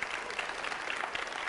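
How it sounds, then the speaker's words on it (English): Brief burst of audience applause at a church event, a dense wash of clapping heard quietly and evenly throughout, with no voices over it. "Let's give them a big round of applause."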